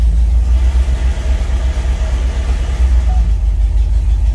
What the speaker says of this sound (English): That's a very nasty sound, and that is inside the transmission.